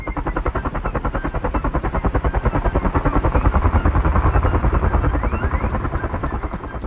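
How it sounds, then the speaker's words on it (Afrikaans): A helicopter with steady, rapid rotor chop over a low engine drone, close and loud throughout with a slight swell in the middle. "Dit is 'n helikopter."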